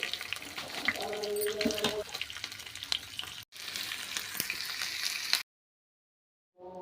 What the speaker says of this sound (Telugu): ఇవి మాత్రమే వేసుకొని చక్కగా కొంచెం ఫ్రై చేసుకోవాలి